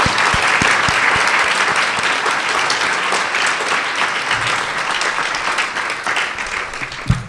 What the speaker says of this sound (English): And applause again.